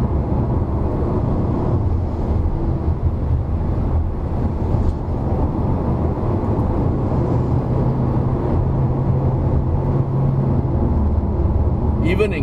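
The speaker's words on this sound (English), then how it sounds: "Yeah, that's just the tire roar." Tire roar inside a Hyundai Kona Turbo at driving speed, a dense, steady low-frequency rumble filling the cabin for the whole stretch, with no engine or gearbox noise standing out.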